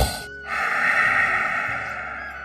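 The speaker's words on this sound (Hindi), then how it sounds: "पूरा दिन खर्राटे मारता रहता" A cartoon man snores with a long, loud, nasal inhaled rasp that follows a short pause. It sounds like a single exaggerated snore stroke.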